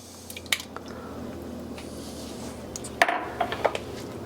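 Peeled whole tomatoes are chopped for minestrone soup: soft, wet squishes and light knife taps, spaced out and fairly close, with no talking.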